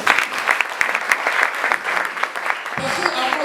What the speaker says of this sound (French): on va acclamer le bien-aimé